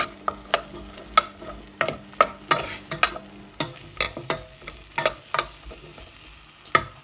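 A spoon stirs white pepper and oregano in a pot for creamy cauliflower soup, giving steady rhythmic scrapes about twice a second over a soft sizzle, close and clear with no talking.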